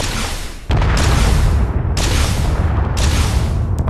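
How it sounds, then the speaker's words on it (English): In the video game Space Engineers, a volley of rockets explodes in a loud, sudden booming blast that rolls into a sustained, crackling rumble with further bursts layered on top. "So we're looking at 16 rockets hitting you in the face."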